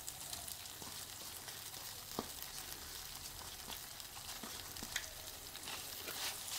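Moong dal halwa mixture with crumbled khoya roasting in ghee in a pan, a steady fine sizzle and crackle with occasional soft pops of stirring, close and moderately quiet, no voices.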